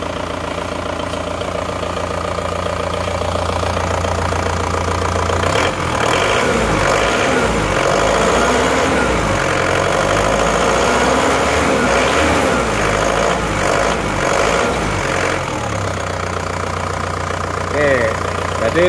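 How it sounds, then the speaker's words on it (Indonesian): Isuzu Panther car engine idling close by, a steady mid-pitched drone with slight revs in the middle, with people talking over it. "Jadi sementara hidupnya mesin gini dulu."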